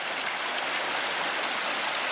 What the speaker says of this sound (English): I've never seen a day that this creek does not run.